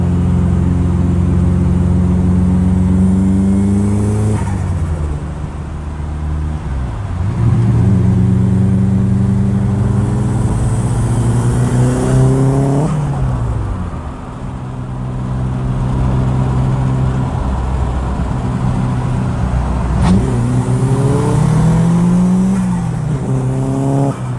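A Nissan S14 Silvia holds a sustained, loud engine drone with rising and falling revs while its tires squeal through a long burnout, the pitch sweeping up and down in several waves, close and continuous.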